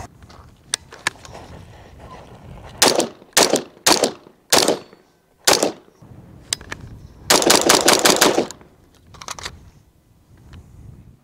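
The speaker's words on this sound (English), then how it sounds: "Grab my ears and put some more rounds through this thing." Several bursts of gunfire from an IWI Carmel rifle at an outdoor range, loud single shots and short rapid strings with gaps of quiet between them.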